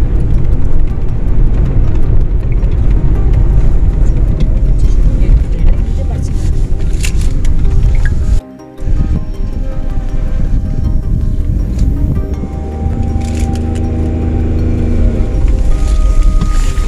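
A Maruti Alto drives over an icy stretch of the Baralacha La mountain pass in Ladakh, giving a loud, steady rumble of engine and road noise that cuts out briefly midway and then resumes.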